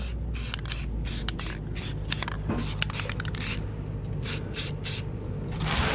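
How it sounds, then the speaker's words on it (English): An aerosol spray paint can hisses in a series of short bursts onto freshly welded metal, some longer than others, close by, with brief pauses between sprays. "we're gonna spray it with some paint just so it won't rust."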